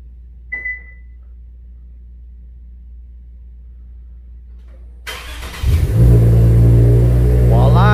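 A 2014-2020 Lexus IS sedan fires up by remote start after a near-silent wait and a single faint beep, the engine cranking and catching into a loud, steady close idle with a rising rev.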